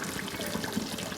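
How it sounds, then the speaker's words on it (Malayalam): Water pours into a pot of chicken and rice as it cooks, a brief, soft, quiet trickle with no one talking. "നമ്മൾ അരിക്കനുസരിച്ചുള്ള വെള്ളം ഒഴിക്കുക"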